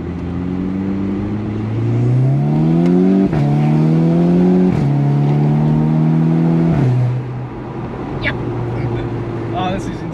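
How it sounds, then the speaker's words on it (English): A Stage 2+ VW Golf 6R revs hard, its turbo spooling up in rising whooshing sweeps across repeated gear pulls, loud and close inside the cabin, with a sharp shift break between each climb. "can you just hear this turbo back spooling up?"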